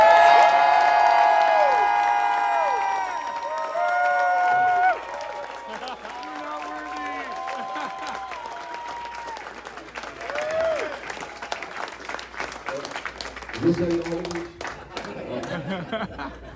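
A convention crowd at a Spooky Empire panel applauds a guest. Loud applause and cheering swell at the start, then fade into a scattered crowd murmur with chatter and a few voices over it.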